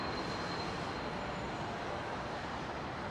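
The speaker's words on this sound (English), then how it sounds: "Might hear a bit of a howl as she touches down." Swiss Airbus A220 jet touching down at London Heathrow, a steady broadband engine roar with a faint high whine, continuous and fairly close throughout.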